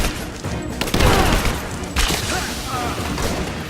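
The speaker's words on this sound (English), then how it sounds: "Keep firing!" Gunfire in the video game Rise of the Tomb Raider comes as a dense, loud burst of overlapping shots and booming impacts that keeps going under a voice.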